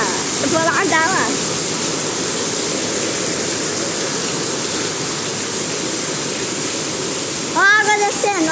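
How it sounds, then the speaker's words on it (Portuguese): Heavy rain pouring down with water rushing and running off, a loud continuous roar like a stream, with a voice speaking briefly near the start and again near the end. "Ó a água descendo, ó a água descendo."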